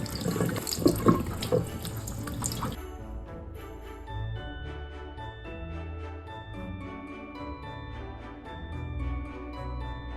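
Water gushes loudly from a tap while an embroidered towel is washed, a splashing rush in the first few seconds that then cuts off, leaving quieter tinkling tones behind.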